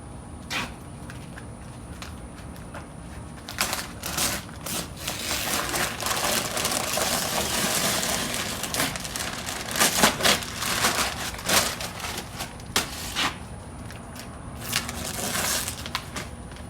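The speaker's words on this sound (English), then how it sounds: "so we let it dry, so it's time to take off the paper." Continuous crinkling and tearing of dried masking paper being peeled off a painted surface, with irregular crackling bursts and rustles growing busier midway, close and fairly loud.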